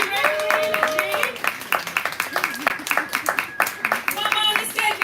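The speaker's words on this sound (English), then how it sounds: "Well, y'all are already clapping." An audience at a live poetry event claps in sharp, rhythmic, evenly spaced beats, close and fairly loud, while voices and excited calls mix in alongside the clapping.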